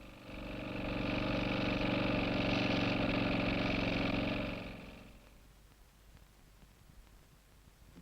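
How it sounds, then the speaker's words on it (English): A motorized 100-ton compressor pressing a steel inner sleeve onto steel conductor cores drones with a steady mechanical hum for about four seconds, then winds down to quiet with faint clicks. "A steel inner sleeve joins the steel cores together with the aid of a 100-ton compressor."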